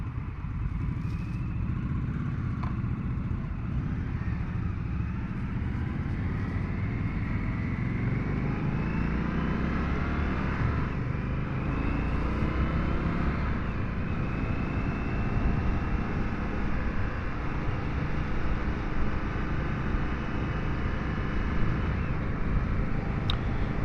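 An Indian FTR1200 S motorcycle ridden around El Cajon, California, its engine a steady close-up drone with rising and falling pitch sweeps as it accelerates and shifts, wind rush mixed in, no talk.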